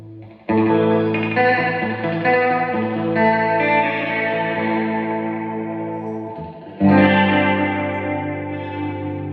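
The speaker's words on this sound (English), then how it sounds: "So there's a real short repeat tape at 1." Sustained electric guitar chords through a BOSS RE-2 Space Echo set to a short tape-echo repeat, ringing out with a shimmering, slightly doubled effect, loud and close, with one pause before a new chord strikes.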